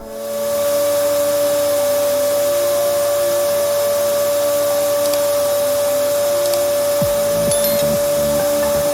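A DaTo CWSVM22 car vacuum cleaner machine for auto detailing runs steadily with a loud, continuous whine and hiss, a strong steady tone held throughout and a few brief clunks near the end.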